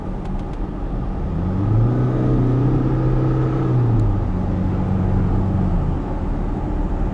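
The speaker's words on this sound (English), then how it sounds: "you can step on the accel pedal deeply to the end" A Land Rover engine revs hard under full-throttle kickdown, the accelerator pressed to the floor, with a loud, steady rising drone that holds for several seconds before easing off.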